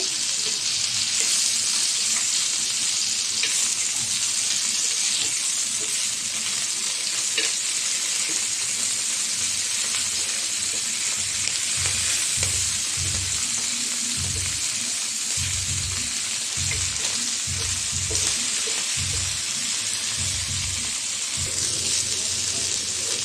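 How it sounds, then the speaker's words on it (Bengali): Fish rubbed with turmeric and chili frying in hot oil after being flipped, a steady loud sizzle throughout with low clattering knocks from a pan or spatula in the middle stretch. "মাছ ভাজাটা হয়ে গেছে, উল্টিয়ে দেব।"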